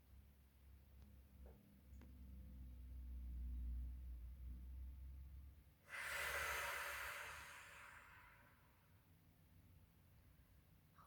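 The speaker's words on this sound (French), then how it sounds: "Vous pouvez vous laisser guider par ma respiration" One slow, soft exhale during a relaxation exercise, close and quiet, rising as a breathy hiss for about two seconds amid near silence.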